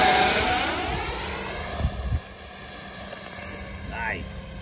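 An Eachine F18 RC jet with a 50mm electric ducted fan flies past outdoors on a calm day, a loud high-pitched whine that sweeps and fades, with brief thumps and a short rising tone as it passes.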